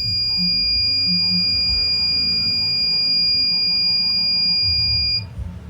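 A steady high-pitched electronic alarm buzzer from a smart garage system beeps continuously over low background hum, then cuts off abruptly near the end.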